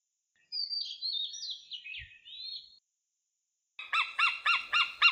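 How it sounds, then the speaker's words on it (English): Robin song alone: a thin, wavering high warble lasting about two seconds, then after a short gap a quick series of five or six bright repeated chirps, clear and close with no background noise. "Robin, robin."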